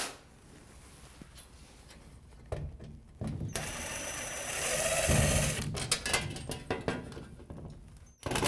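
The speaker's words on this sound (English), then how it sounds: "Oh, that's a loud screw gun." A loud screw gun whirs in a long burst while removing light fixture mounting screws, preceded and followed by quieter handling clatter and clicks at close range, with no voices.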